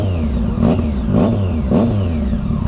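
A Triumph Street Triple 675 three-cylinder motorcycle fitted with an aftermarket exhaust revs up close by, three sharp throttle blips rising and falling over a rough, burbling idle.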